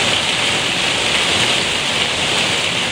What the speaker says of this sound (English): I told you to hear the rain. Like, this rain is no freaking joke.